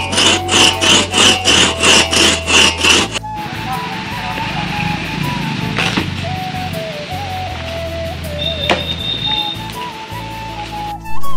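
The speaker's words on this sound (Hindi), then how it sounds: "लकड़ी की कटाई चल रही थी और देख सकते हो मैं भी मेहनत कर रहा हूँ आज पेड़ काटने में" A saw cuts through a tree trunk in a mango orchard, with several quick, rhythmic strokes for about three seconds. After that the sawing drops away and music carries the rest of the clip.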